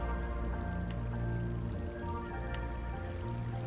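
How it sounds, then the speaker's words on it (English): Flowing water streams in a Minecraft iron farm make a soft, continuous rushing patter, faint beneath a steady tonal drone. "You may notice the water streams."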